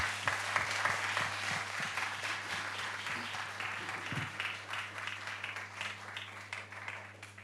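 Sustained audience applause at a French television magic show, steady and dense for the whole stretch with a few sharper individual claps rising out of it, over a constant low electrical hum.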